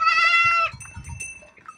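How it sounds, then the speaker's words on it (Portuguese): Goats let out of their pen on a Brazilian smallholding bleat in one loud, close, quavering cry, followed by fainter shuffling, clinking and a distant bleat. "Aí agora eu vou liberar as cabras."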